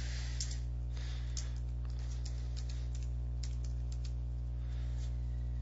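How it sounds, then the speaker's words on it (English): Computer keyboard typing at a steady, quick pace of light clicking keystrokes over a constant low electrical hum, close and fairly quiet. "I'm going to type in my name, and then my class information."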